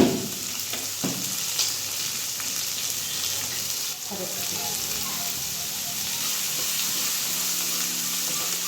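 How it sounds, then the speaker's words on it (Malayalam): Upma ingredients sautéing in a pan, with steady sizzling frying noise and occasional stirring scrapes throughout, fairly close and continuous with no talk over it. "നന്നായിട്ട് വഴറ്റുക"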